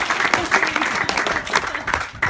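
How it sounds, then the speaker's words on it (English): Wedding guests break into a burst of applause during a reception speech, loud and close, with scattered voices mixed in among the clapping. "That's where you clap again."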